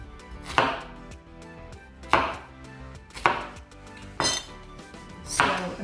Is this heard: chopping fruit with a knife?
yes